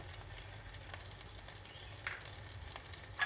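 Onion paste, spice paste and ginger-garlic paste frying in a pan for a catfish bhuna, giving a steady, close sizzle with scattered crackles and light stirring scrapes throughout.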